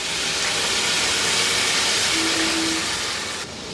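Pointed gourd (potol) frying over high heat in about one and a half tablespoons of hot oil in a wok, producing a loud steady hiss and sizzle that holds for a few seconds, with no talking.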